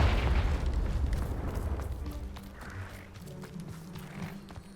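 A booming magical blast from the Confringo spell in Hogwarts Legacy erupts loudly at first, then fades into a rumbling tail with scattered softer game effects.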